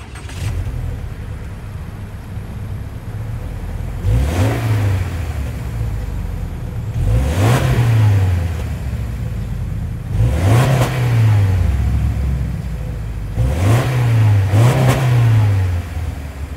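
A 2023 Subaru Outback Onyx Edition's 2.5-liter boxer four-cylinder revs up repeatedly from idle, four distinct throttle blips rising and falling over a steady low idle, heard close and alone.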